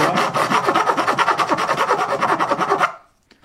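Steady back-and-forth rasping of a hand file across a 3D-printed R2D2 dome, some twenty quick rhythmic strokes, close and loud, ending abruptly into near silence.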